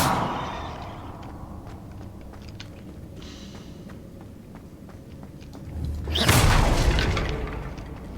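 A Confringo blasting spell explodes in Hogwarts Legacy: a loud, close burst with a sharp crack that swells into a rumbling blast and slowly fades. Soft scattered footsteps and clicks come before it.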